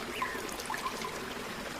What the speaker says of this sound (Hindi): बेरिया देकर रानो पानी के अंदर जाकर नहाने लगती है